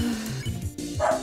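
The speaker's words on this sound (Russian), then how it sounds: "О, собака лает." A dog barks in a few short, close yips over a steady low background.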